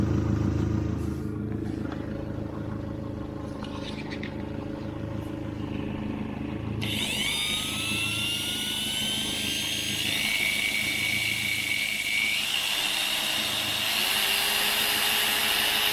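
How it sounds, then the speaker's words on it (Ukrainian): Electric polishing machine run on power from a Chinese FCHAO inverter, with a low steady motor hum and a higher whining tone rising midway and holding, close and continuous. "Це в мене полірувалка робоча з роботи."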